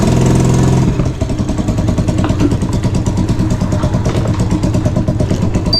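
A small motorcycle's engine runs on the road during a ride, first a loud steady drone, then a pulsing, throbbing rhythm as it keeps going, close to the microphone and with no talking.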